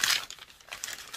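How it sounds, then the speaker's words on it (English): Paper packaging being torn open makes a short burst of close crinkling and ripping that lasts about a second, with no talk. "I'm just going to rip this open."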